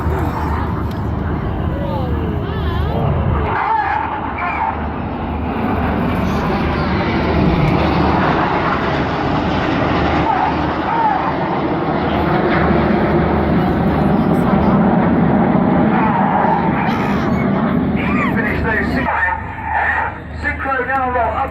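Red Arrows aerobatic jets roar overhead at the 2016 Sunderland Airshow, a loud, sustained engine rush that swells and fades as they roll, with an announcer commenting throughout.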